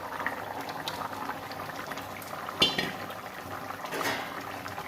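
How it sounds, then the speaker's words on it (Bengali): A pot of vegetable curry with small fish boiling steadily on the stove, a soft continuous bubbling with a few louder pops, close and fairly quiet, with no talk. "একবার ফুটে এলে নামিয়ে নেব"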